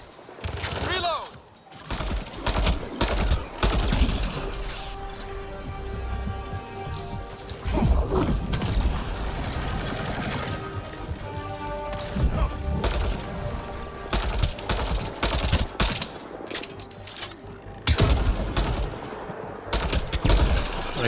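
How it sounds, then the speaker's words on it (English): Repeated assault rifle fire in the Mass Effect: Andromeda video game, dense sharp shots in bursts with mechanical clatter, loud and continuous across a firefight, with game voices talking over parts of it. "It's my old assault rifle"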